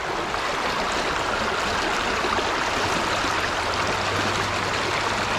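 Water rushes steadily through a gold prospecting sluice set in a river, a close, even broadband wash that stays constant throughout with no voices over it.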